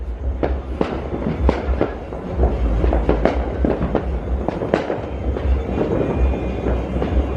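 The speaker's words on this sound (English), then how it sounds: "I hear fireworks popping" Fireworks popping and crackling outdoors on New Year's Eve, with repeated sharp bangs at irregular intervals over a constant low rumble, some close and loud, others farther off.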